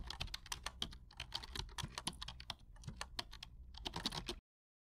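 Fast, steady typing on a computer keyboard, close and clear, with dense clicking bursts broken by brief pauses before stopping abruptly.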